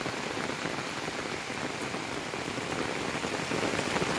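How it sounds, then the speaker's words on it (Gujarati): Heavy rain pours steadily onto a surface, a dense continuous patter with no pauses, loud and close, and no voices. "એવો વરસાદ છે અટાણે"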